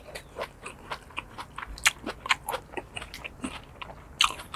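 Crisp, irregular crunching bites of home-grown lettuce bibimbap mixed in a metal bowl, chewed up close with sharp crackly bursts at an uneven pace and no talking.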